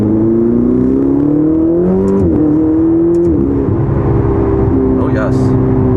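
Ferrari with a 7-speed dual-clutch transmission accelerating hard: a loud, steady engine tone climbs in pitch, dips briefly at quick gear shifts, then pulls on from inside the cabin.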